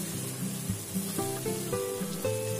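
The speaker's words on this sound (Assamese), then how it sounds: "মাংসখিনি দিও অলপ সময় ভাজি পানী দি এইখিনি কেঁচা গোন্ধটো যোৱালৈকে ভাজিছোঁ।" Meat sizzles as it fries in a pan, a steady close hiss with a low hum in the background and a few faint clinks, with no talking.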